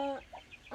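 Faverolles chickens give a couple of short, close clucks at a moderate level, with a brief gap of quieter sound between them.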